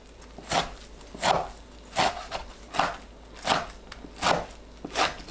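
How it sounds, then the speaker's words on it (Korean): Knife slicing bomdong spring cabbage on a cutting board, seven crisp, evenly spaced chops about three-quarters of a second apart, close and clear with no talking. "반대 방향으로 한번 썰어줍니다."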